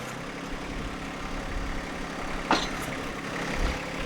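A John Deere 1025R compact tractor idles steadily with its engine droning throughout while the backhoe is raised, a brief sharp hydraulic hiss or clank breaking through midway.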